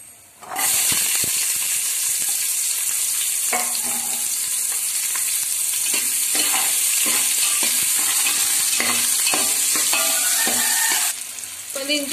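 Onions frying with cumin in a pan give a loud, continuous sizzle and hiss, with repeated scraping strokes of the spoon stirring them close by.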